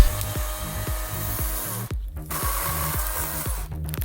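Chainsaw cutting firewood outdoors in a blizzard, its engine droning steadily with rhythmic revs and bogging as the chain bites through logs, near and loud, with a brief dip in the middle.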